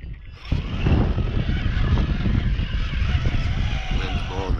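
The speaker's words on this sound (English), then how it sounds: "Wind's blowing the camera around out here." Strong wind buffets an outdoor camera microphone, a loud continuous rumbling roar starting after a brief quiet moment and holding steady throughout.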